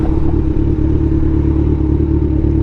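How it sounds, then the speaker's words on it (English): A 2016 Kawasaki Ninja 1000 motorcycle idles and rumbles steadily up close, its engine putting out a continuous low drone with faint crackling deceleration pops as the throttle is barely opened. "That little decel pops when you just kind of open the throttle just a hair."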